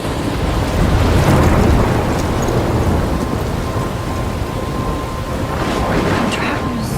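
A loud thunderstorm in the video game Life is Strange, with a constant roar of heavy rain and wind under deep rolling thunder that swells early and keeps rumbling throughout.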